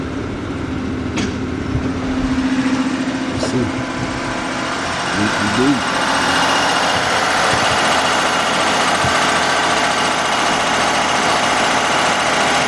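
A Kia/Hyundai V6 runs at a steady idle after a timing belt and water pump replacement, a continuous mechanical hum and whir heard up close while someone speaks briefly over it.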